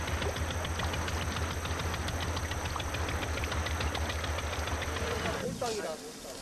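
Steady droning boat engine with a low throbbing hum running continuously on a long sea crossing to an island, close and loud, easing off near the end as other noise enters.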